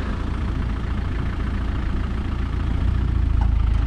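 Engine of a bogged vehicle on a beach straining in reverse, a steady low rumble that swells slightly louder toward the end, heard alone without talk.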